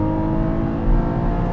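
A 2021 Porsche 718 Cayman GTS 4.0 with a naturally aspirated flat-six engine accelerates hard, giving a loud, steady, rich tone close by without any pause.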